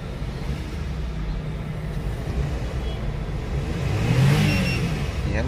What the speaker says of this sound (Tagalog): pinong-pino po yung andar ng ating makina.